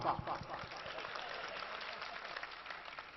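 Thin, scattered clapping from an audience at a mushaira poetry gathering, a weak patter that stays steady and fairly quiet for a few seconds.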